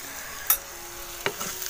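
Turmeric and salt stirred in hot oil in a pan over a wood-fired stove, a soft steady sizzle broken by two sharp spoon clinks against the pan, close and fairly quiet, no talking.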